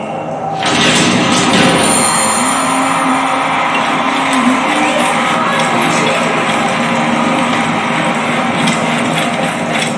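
An arena crowd in Assassin's Creed Origins cheers and screams, a loud, dense wall of roaring voices that swells in after a brief quiet start and holds steady.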